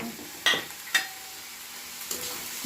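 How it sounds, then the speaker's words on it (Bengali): Onion, tomato and capsicum fry in a pan while a utensil stirs them, giving a soft continuous sizzle broken by a few sharp scrapes and clinks, close and without talk. "এবার আমরা এর মধ্যে কেটে রাখা টমেটো আর ক্যাপসিকামটা দিয়ে দিচ্ছি দিয়ে হালকা নাড়াচাড়া করে নেব"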